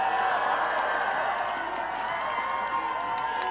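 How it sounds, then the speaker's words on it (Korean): A dense, continuous roar of a crowd cheering and shouting at a Korean presidential election campaign rally, loud and sustained with no breaks and no single voice standing out. "백두산 검은 호랑이의 포효와 함성 5초간 발사!"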